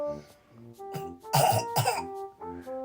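A child gives a few fake coughs and throat-clearing bursts, short and close, separated by quiet gaps and a faint tonal sound in the background.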